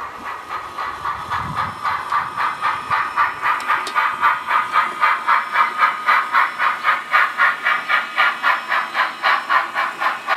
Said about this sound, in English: The mixed train enters the Lin Valley.